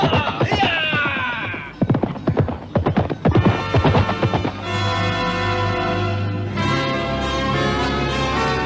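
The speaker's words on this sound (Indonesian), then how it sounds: "Setelah beberapa saat lamanya berkuda, laki-laki itu mengarahkan kudanya menuju ke halaman rumah kediaman sang Ramapati." In an Indonesian historical audio drama, a ridden horse approaches the courtyard of a nobleman's residence: rhythmic hoofbeats and a whinny sound over a sustained musical drone, with no speech.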